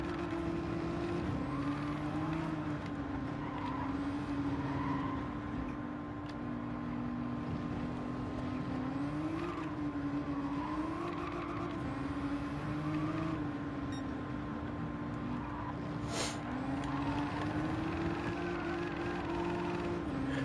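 Nissan front-wheel drive car in Gran Turismo 7 holding a steady engine drone with tyres squealing in long wavering tones throughout, loud and continuous with no talking.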